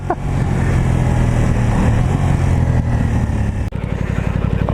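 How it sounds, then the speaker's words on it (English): An Aprilia Tuono 660 motorcycle revs hard, a loud, raspy engine note that climbs steadily, dips briefly, then carries on at high revs close by. "it sounds such a great rasp when you go up the rev range"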